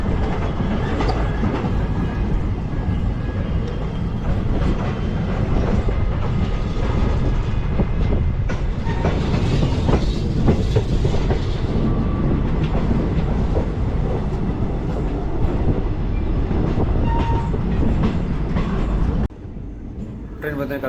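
Train running on rails as it enters Dharwad station during a Belagavi to Karur journey, a loud continuous rumble with clickety-clack wheel beats throughout, heard from on board, with faint voices now and then.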